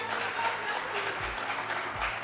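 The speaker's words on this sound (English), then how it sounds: "Can you see that they got a clap there?" An audience claps in a broadcast, producing a steady, dense patter of applause at moderate loudness that continues without a break.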